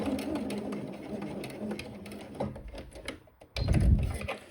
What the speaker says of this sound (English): I stop when I reach the starting seam and make a backstitch.